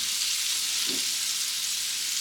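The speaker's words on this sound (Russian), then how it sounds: "Рыба жарилась примерно 5 минут на одном боку. Я ее перевернул на другой бок." Pink salmon fillet frying in a pan, a steady bright sizzle of hot oil that holds evenly throughout, with a faint low clunk partway through and no talking.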